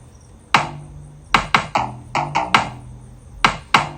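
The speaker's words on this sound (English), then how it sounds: "This is the pattern for the kick drum." A punchy kick drum plays a short syncopated pattern, about ten deep thumping hits with some in quick pairs, each decaying with a low boom.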